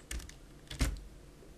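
A few quiet computer keyboard keystrokes on a keyboard that is not registering every press, in two small clusters of clicks close to the microphone, with no talking.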